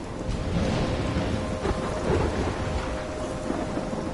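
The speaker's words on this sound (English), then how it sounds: "I'm trapped in a storm?" Thunderstorm in a PS4 video game, steady heavy rain with low rolling thunder rumbling throughout, dense and continuous with no voices.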